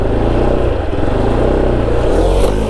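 A motorcycle engine revs hard and close, a dense continuous growl that rises and swells toward the end, loud and alone without talk.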